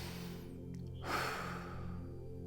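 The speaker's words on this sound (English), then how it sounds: "let's start by taking in a deep breath." One slow, deep breath drawn in and let out, soft and close, rising and fading over a quiet steady hum.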